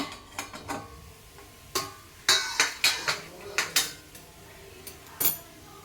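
Appam being turned over in a pan with a utensil gives a series of sharp metallic clinks and scrapes, about a dozen light taps spread unevenly and heard up close with no talking.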